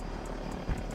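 A helicopter in a shooter video game whirs close, its rotor thumping in quick regular pulses over a steady engine drone.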